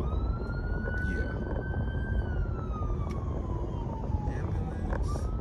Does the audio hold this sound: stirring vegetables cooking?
no